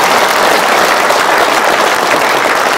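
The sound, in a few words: audience applause at a lecture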